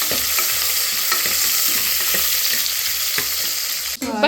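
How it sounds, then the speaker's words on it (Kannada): Two dried red chillies and two green chillies sizzle in hot tempering oil while being stirred, a steady loud frying hiss with regular scraping strokes of a utensil and a clatter near the end. "ಚೆನ್ನಾಗಿ ಒಗ್ಗರಣೆ ಮಾಡ್ತೀವಿ"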